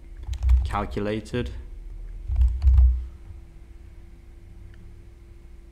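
Computer keyboard keys clatter in short bursts of typing while someone speaks over them at close range.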